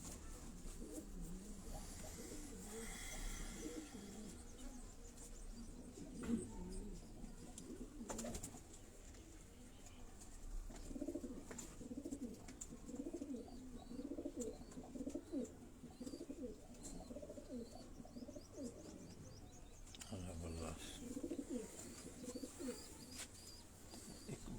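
Pigeons coo softly in a loft during a pigeon-flying event, low repeated throaty calls recurring through a quiet background with occasional knocks and rustles, faint and steady over the whole stretch.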